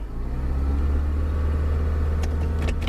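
A Honda CR-V engine, in a car stuck in park, revs up from idle in a steady, loud, close rumble that holds high throughout, with a few faint clicks near the end.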